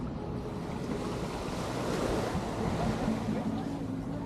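Ocean surf washes steadily at Waikiki Beach in Hawaii, a broad continuous roar of breaking waves mixed with wind noise on the microphone, fairly quiet and unbroken throughout.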